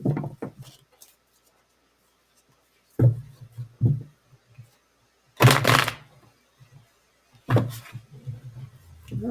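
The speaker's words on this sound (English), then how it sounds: "Do a couple of shuffles like this." Tarot cards are shuffled in a few short bursts of riffling and tapping, separated by quiet pauses, close and fairly faint.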